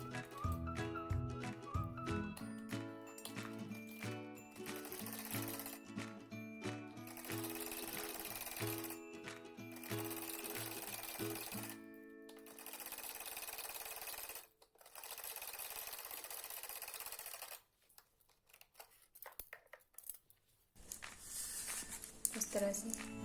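A sewing machine stitches a straight half-inch seam along a salwar hem in bursts of steady mechanical whirring, broken by short pauses, with someone speaking over it.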